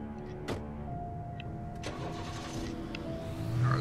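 A car in the video game Alan Wake starts up, a low engine rumble with steady mid tones, a brief crank near the start and the engine swelling louder toward the end.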